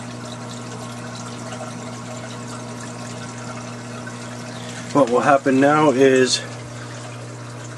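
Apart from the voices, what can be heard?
aquarium pump moving new salt water during auto water change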